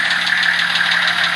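A Nissan Patrol with a TD42 diesel engine, heard before its tune, runs close up with a steady, rapid knocking clatter and a constant mechanical drone.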